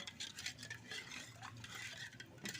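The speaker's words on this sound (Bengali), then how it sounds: "চিনির গুঁড়োটা দিয়ে একটু ভালো করে নাড়াচাড়া করে নেব" Powdered sugar being stirred into cooled milk for sweet curd, a steady close scraping and swishing of a spoon in a bowl with soft clinks, continuous for a few seconds and alone without talk.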